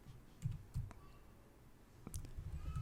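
Soft, scattered key clicks from a computer keyboard come in small irregular bursts, faint and close, with quiet gaps between strokes.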